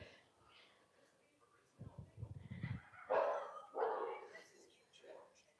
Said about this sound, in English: There's little dogs outside.